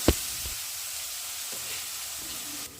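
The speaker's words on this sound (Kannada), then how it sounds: "ಶುಂಠಿ ಬೆಳ್ಳುಳ್ಳಿ ಪೇಸ್ಟ್ನ ಹಸಿ ವಾಸನೆ ಹೋಗೋವರೆಗೂ ಫ್ರೈ ಮಾಡ್ಕೊಳ್ಳಿ" Ginger garlic paste fries with onions in hot oil for jeera rice and dal fry, a steady close sizzle with a sharp clatter of a spoon at the start and soft stirring scrapes through it, no voices.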